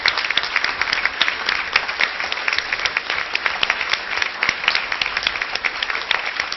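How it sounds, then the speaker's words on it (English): Steady applause from an audience at a school board meeting, dense overlapping claps sustained throughout at a fairly loud, even level. "just give them a round of applause for really putting these students together"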